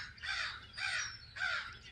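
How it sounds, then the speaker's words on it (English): A crow caws three times in a steady, evenly spaced series out in a residential neighborhood, each harsh call loud and fairly close, with no talking. "looks like we got a crow in the neighborhood trying to take over"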